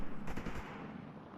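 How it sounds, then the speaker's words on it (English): Distant gunfire in the zombie survival video game Project Zomboid: a short muffled burst of several shots early on, then a low rumbling ambient bed fading out. "The gunshots in the distance, the choppers, it all sounds real fucking good."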